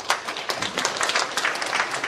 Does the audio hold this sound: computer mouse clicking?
no